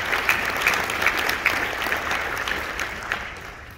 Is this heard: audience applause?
yes